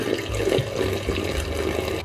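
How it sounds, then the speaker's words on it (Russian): Hot water is poured into a sink drain that has been treated with powder, making a steady splashing, gurgling stream at close range with no talking. "я заливаю просто горячей водой."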